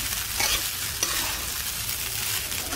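Sabudana khichdi being stirred in a pan, with a spoon scraping and turning the soaked pearls over a soft sizzle, a few sharper scrapes standing out against a steady frying hiss, close by.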